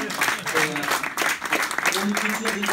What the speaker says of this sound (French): Ça t'applaudit très fort.